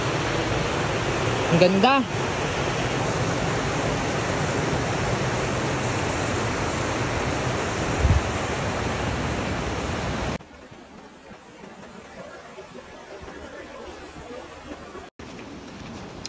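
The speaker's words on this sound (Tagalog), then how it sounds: "Napakalakas ng agos." Strong current of the Tinipak River rushes over rocks in a loud, steady broadband roar that drops to a quieter, more distant flow partway through, with a brief spoken exclamation over it.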